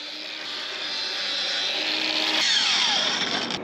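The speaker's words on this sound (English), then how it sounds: "we crack the grinder out once again to do the best job possible" A power grinder trims and levels a horse's huge, twisted front hooves, a steady loud whine with a rising pitch shift partway through, running continuously with no talk.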